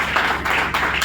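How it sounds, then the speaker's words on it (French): Audience applause for a senator's address: a dense, steady wash of clapping heard alone for about a second, fairly loud and close. "Applaudissons également cette résolution."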